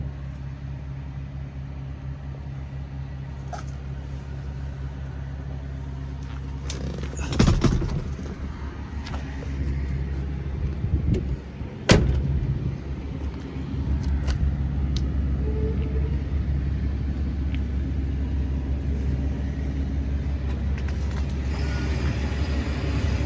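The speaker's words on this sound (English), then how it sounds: "So we will fire it up and then drive it very soon." A 1967 Oldsmobile Toronado Deluxe idles with a steady low rumble after starting, broken by a few sharp knocks and clunks midway.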